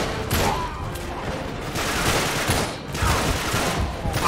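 Rapid bursts of automatic gunfire from the video game Uncharted 3, loud and repeated in several volleys over a few seconds, with no speech over them.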